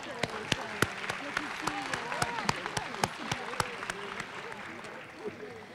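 Audience at a college annual awards and recognition ceremony applauds ten-year employees, scattered sharp individual claps standing out over a softer wash of crowd clapping, with some voices underneath.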